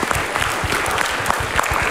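Audience applause fills a talk-show studio during the Mario Teguh Super Show, a dense, loud, even patter of many hands clapping continuously.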